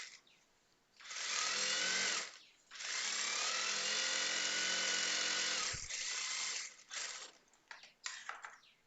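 A sewing machine stitching a double side seam on a skirt runs loud and steady in two long bursts with a short pause between, then stops and gives way to scattered handling clicks.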